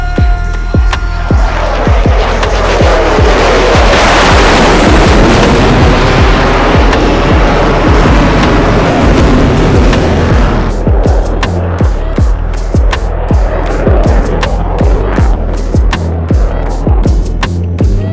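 A US Air Force F-22 Raptor jet roars loudly overhead at the 2023 Stuart Air Show, a thunderous broadband rush that builds and then gives way to sharp crackling rumble as it passes close by.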